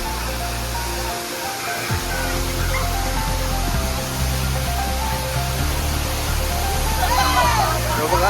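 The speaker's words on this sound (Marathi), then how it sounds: "बघू शकतात पाणी किती उंचावरनं पडतात" A loud, steady roar of water crashing down from a great height at Manche waterfall in Devgad, Konkan, continuous and dense throughout, with no pauses.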